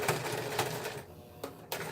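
A sewing machine edge stitching fabric with a regular straight stitch runs in a steady close mechanical clatter, with a brief pause and a couple of sharper clicks near the end.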